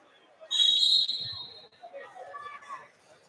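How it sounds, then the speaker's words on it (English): Referee's whistle at a high school wrestling tournament, one sharp shrill blast lasting about half a second, followed by crowd murmur and mat noise in a gym. "And I'll tell you what, hearing that whistle"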